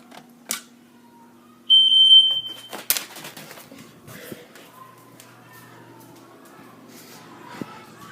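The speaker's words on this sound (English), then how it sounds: "A smoke detector." A household smoke detector sounds during a fire alarm system walk test, giving a brief loud shrill beep burst followed by clicks and handling noises, with quieter tones and scattered knocks afterward.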